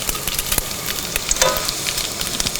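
Bacon sizzling in a pan over a camp stove outdoors, a steady close hiss of frying fat with scattered pops and crackles throughout.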